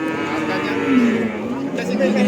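Cattle moo loudly at a cattle market among Simmental bulls, a long sustained low lowing call that rises and holds over about two seconds, with market chatter and voices underneath.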